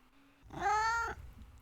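A single cat meow, fairly close and clear, rising and falling over about half a second against a quiet room with a faint background hum.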